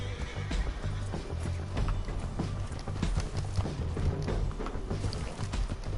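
A horse in Red Dead Redemption 2 whinnies loudly while its hooves clop steadily throughout, with faint thuds and game ambience underneath and no speech.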